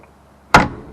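The door of a 1970 Cadillac Superior hearse thuds shut once, a single loud close-up impact that rings briefly and fades, the door failing to latch and bouncing back.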